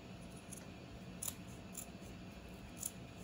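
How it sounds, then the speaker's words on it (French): Scissors cut the fabric of a skirt being upcycled, with a few soft, sharp snips spread irregularly over a quiet room background. "je vais prendre les ciseaux après pour être un peu plus précise"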